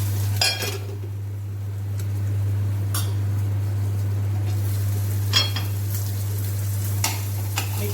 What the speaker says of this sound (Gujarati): હવે થોડીક હળદર અંદર એડ કરી દઈશું.